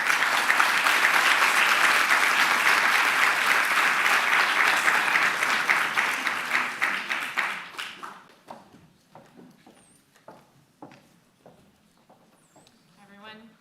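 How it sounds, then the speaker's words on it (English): Applause from an audience at a Latin American business summit in Oxford, welcoming a panel: a full, dense round of clapping that holds steady, then thins to scattered claps and fades, with footsteps and murmur afterward. "Please welcome them with a round of applause."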